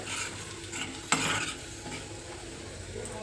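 A frying vegetable dish with chilli powder, coriander powder and onion-garlic masala being mixed in a pan, a spoon scraping and clinking against metal over a low, steady sizzle, close by, with one sharp knock partway through.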